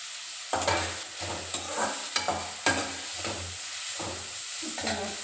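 Onion, green chili and mustard seeds frying in oil as a tempering for a sprouted green gram dish, a continuous sizzle broken by repeated scraping stirs of a spoon against the pan, close and steady.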